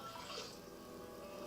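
Water poured into a pot of squirrel cooking with chicken broth and white wine, a steady soft splashing trickle running throughout without a break.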